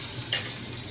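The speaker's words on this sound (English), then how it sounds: "I'm cooking this broccoli and mixture in the pan" Broccoli mixture frying in a pan gives off a steady, close sizzle, with one short brighter stir or clink partway through and no voices.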